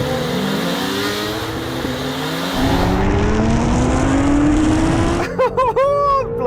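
Honda NSX car and Honda CBR1000RR Fireblade motorcycle in a drag race: loud engines climbing steadily in pitch as they accelerate through the gears, then quick revving blips near the end, close and dominant.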